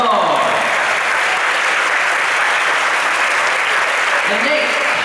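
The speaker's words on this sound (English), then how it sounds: "Everybody give her a round of applause." Audience applause fills an opening ceremony hall at the 2019 World Youth Tchoukball Championship, a steady dense wash of clapping from a large crowd that holds loud throughout, with a brief voice over it near the start.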